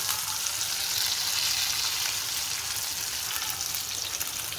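Beaten eggs and milk frying in a pan, a steady bright sizzle with crackling, close and even throughout, without talking.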